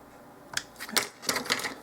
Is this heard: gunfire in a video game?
no